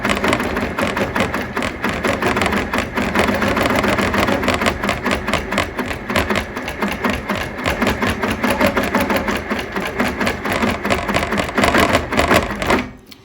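A quilting sewing machine stitches steadily along a ruler on a quilt block, its fast needle chatter continuous and loud, close up, with no talking.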